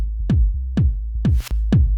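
Four deep, punchy kick drum hits land at an even pace over a thick, sustained low bass, with a short noisy sweep near the end.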